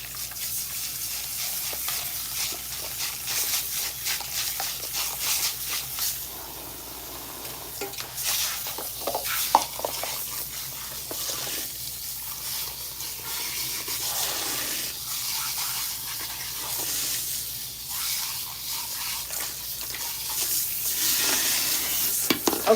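Cool water runs steadily through hair during a rinse at home, a continuous hissing splash with small shifts in flow and no talking.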